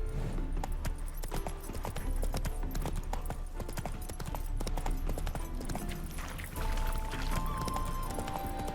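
Horse hooves clip-clop steadily through The Witcher 3, a continuous rhythmic trot over in-game music and ambience, close and prominent throughout with no talking.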